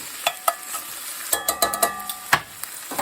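Butter and steak sizzle in a cast iron pan, with a steady frying hiss broken by sharp spatters and scraping clicks as the pan is worked, close and fairly loud with no talking.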